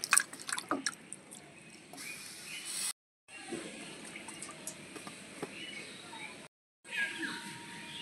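Raw mangoes being washed under water, soft splashing and dripping with small knocks, quiet and close, broken by two short silent gaps.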